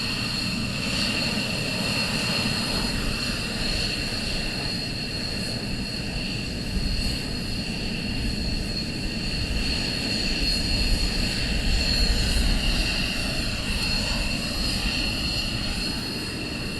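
United States Air Force military jet taxiing out at RAF Lakenheath: a continuous, even engine rumble topped by a sustained high whine, swelling slightly near the end, with no one talking.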